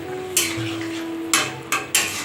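A utensil stirs fish curry seasoned with turmeric, oil and salt in a pan, giving four sharp metallic scrapes and knocks against the pan over a low, steady hum.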